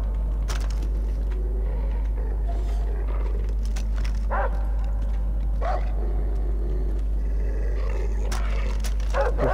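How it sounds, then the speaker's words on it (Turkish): A dog in the video game Far Cry 3 barks and growls in a few short bursts over a constant low game hum, at moderate distance, with no speech. "Kitli bir köpek var."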